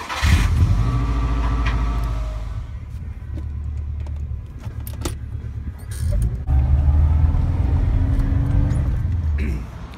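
A 1992 Subaru Legacy drives off along the road, its engine a steady low rumble that swells as it pulls away and accelerates again after a brief lull.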